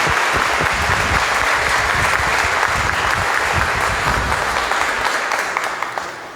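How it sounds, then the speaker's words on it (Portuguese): Congregation at a thanksgiving Mass in Campinas applauding, loud dense clapping filling a large church, sustained evenly before tapering off at the end. "Vamos recepcioná-lo com uma salva de palmas."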